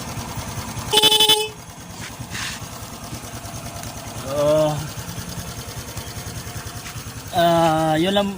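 A motorcycle horn fitted with an added relay blares three times, short loud honks spaced apart over a running engine, with a sharp click before the first.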